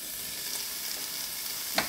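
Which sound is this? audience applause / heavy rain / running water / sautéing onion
sautéing onion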